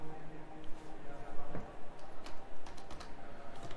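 Quick, close clicking of keys on a computer keyboard as a name is typed for a racing game setup, in a short irregular burst with faint background noise.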